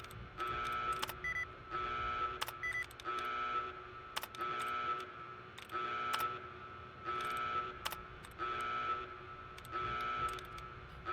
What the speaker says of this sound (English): This alarm is awesome.